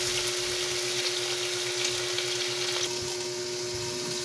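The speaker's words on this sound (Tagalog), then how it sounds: "Bigyan ng hipon. Ating gisa-gisayin lang yan." Shrimp (sugpo) sautéing in a pan, giving a steady close sizzle and crackle that runs evenly throughout with no talking.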